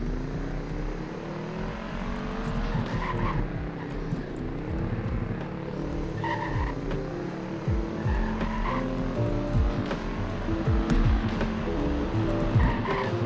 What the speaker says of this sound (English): I'm driving the Urus now and it's really fast